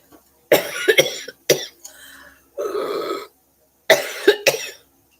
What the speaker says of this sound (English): Whenever I cough, I sound like I'm dying.